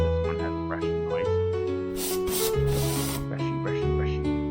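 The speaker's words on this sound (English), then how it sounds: "This one has a brushing noise." Brushing sound effect from an indie game devlog, a soft rubbing, sanding-like scrape sweeping back and forth over looping game music, with a louder burst of scratchy brushing in the middle.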